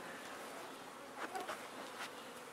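Carniolan honey bees buzz faintly at an apiary hive, a soft continuous hum with a few brief passes of individual bees flying close to the microphone, no talk.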